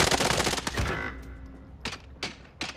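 Rapid bursts of automatic gunfire from a first-person shooter video game, loud and dense at first, then fading to scattered separate shots with quiet gaps between them.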